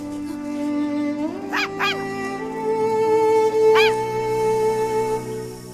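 A puppy in a children's comedy film gives a few high, wavering whimpers and short yaps in separate bursts, close by, over a steady tonal background.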